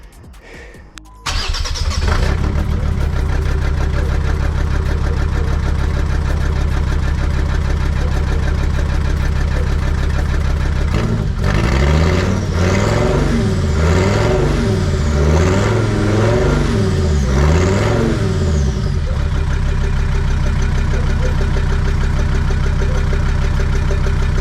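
A Jeep WJ 2.7 CRD diesel with its turbo removed cranks and catches, then settles into a loud, close, rough idle. It rises and falls through several revs before easing back to a steady idle, with no talk.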